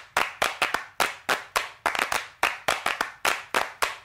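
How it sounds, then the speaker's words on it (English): Hand-clap samples played back in a dance-music drop land as sharp, dry, isolated claps in a loose, slightly uneven rhythm of about a dozen hits, each decaying quickly into near silence, with no voices. "I'll play the claps right now."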